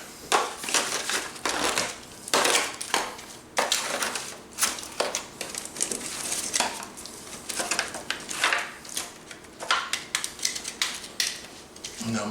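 Aluminum foil being crimped tightly over a pan of smoked party ribs: continuous close crinkling and crushing, rising in quick bursts as it is pressed and folded around the pan edge, with no talk.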